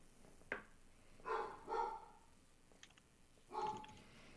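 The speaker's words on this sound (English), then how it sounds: "And of course, my dog is barking." A dog barks indoors a few times from a short distance, sharp single and double barks spaced apart over faint background noise, with no talk.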